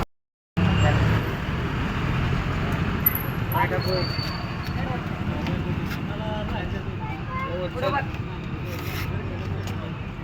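Traffic of cars and buses rolls along a road as a small convoy travels together, a steady, moderate rumble of engines and tyres running throughout, with people talking faintly in the background.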